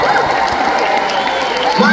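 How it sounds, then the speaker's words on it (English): A crowd at an S Club charity show applauds and cheers, a steady wash of clapping and shouting voices throughout the short burst. "we want to give a massive round of applause for their support as well"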